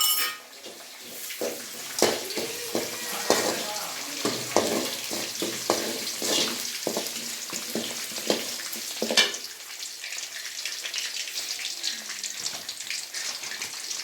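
Curry leaves, chopped garlic and green chilies fry in hot oil for puliyogare, giving a continuous sizzle broken by sharp crackles and spatters, close and fairly loud.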